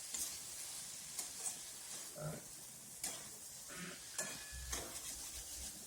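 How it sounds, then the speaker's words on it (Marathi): Soaked homemade sprouted moth beans are stirred together in a pan for usal, giving faint scattered scrapes and soft clinks over a low, hissy background, with no talk. "हे सगळं चांगलं मिक्स करून घ्यायचं परत."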